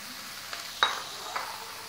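Onion stirred in a pan of hot oil, giving a soft steady sizzle with a few brief scraping stirs, close and quiet, with no talking.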